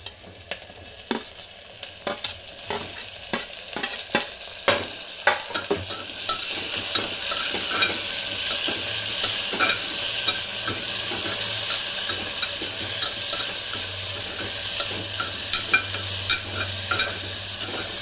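Onion and tomato sizzle in hot oil in a pan for dal khichdi, with a spoon scraping and stirring in repeated knocks over a steady frying hiss.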